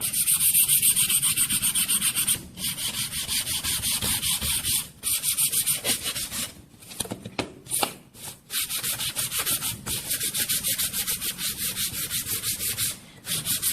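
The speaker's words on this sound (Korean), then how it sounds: "사포질을 하면 자연스럽게 결이 나타나서 멋있는 느낌을 살릴 수 있습니다." Sandpaper rubbed along the grain of solid wood gives a steady, close, loud scratching rasp in long continuous strokes, broken by a few brief pauses.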